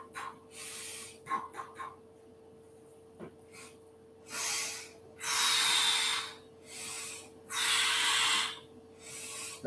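Deep, controlled breaths come close to the microphone: a few short sniffs, then long, even breathy exhales repeated at a slow, steady pace, each one a loud hiss, with no talking.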